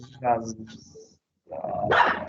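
A small dog barks indoors during an online physiology class, giving a short bark early and then a louder yapping burst after a brief pause, with a voice speaking around it.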